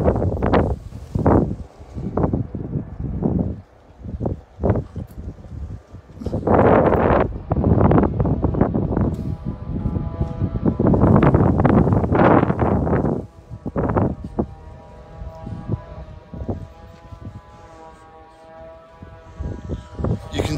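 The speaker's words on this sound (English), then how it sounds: "The wind has really come in and it feels like a storm is on the way." Strong gusting wind before a storm buffets the microphone, coming in loud uneven surges and lulls over about twenty seconds, with rustling bursts and rumbling noise and no talk.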